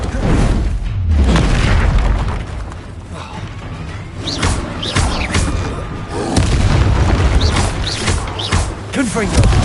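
A Confringo fire spell goes off in Hogwarts Legacy during a fight with a troll, giving a heavy, booming blast early on. Rumbling impacts and mechanical clanks follow, with a voice heard among the game sounds.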